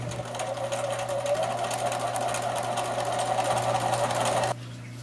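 A sewing machine runs a continuous stitch close to the folded edge of an 18-inch doll skirt, a fast, even whir at close range that stops abruptly near the end.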